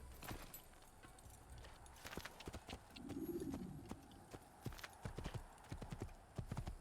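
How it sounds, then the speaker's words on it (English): Horse hooves clip-clop steadily across the ground in Assassin's Creed 1 near Masyaf, a close, rhythmic run of hoofbeats with a brief low snort or whinny midway. "I was given a free horse, so I will take my horse."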